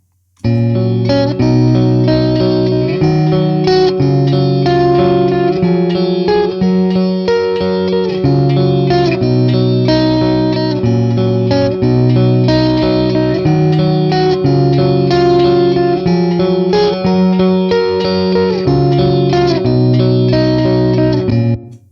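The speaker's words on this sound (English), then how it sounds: "you can hear there that the compressor is doing a couple of nice little things" A sustained, smoothly compressed electric guitar through a TONEX compressor setting plays chords and melodic lines continuously, with even loudness and a light chorus-like shimmer.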